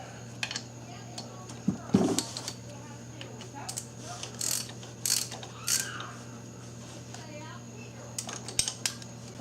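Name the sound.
tightening bolts on Volkswagen Jetta power steering pump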